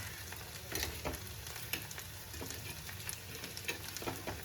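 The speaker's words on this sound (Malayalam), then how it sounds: "അപ്പം നമ്മളിത് ഇപ്പോൾ ഏകദേശം ഫ്രൈ ആയിട്ടുണ്ട്" Sliced ivy gourd (kovakka) fries in a pan with a continuous bright sizzle, broken by occasional louder crackles and spatters, alone with no talk.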